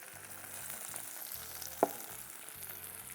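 Coriander leaves and onion sauté in a pan with a soft, quiet sizzle, broken once by a single sharp clack of a utensil against the pan midway through.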